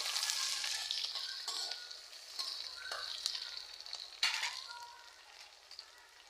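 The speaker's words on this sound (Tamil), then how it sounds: "அடுத்து பூண்டு வெங்காயம் சேர்த்துக்கலாம் கருகாமல் பார்த்துக்கணும்" Garlic and onion frying in oil with radish leaves, a steady bright sizzle with small crackling bursts and a couple of louder spits, no voices.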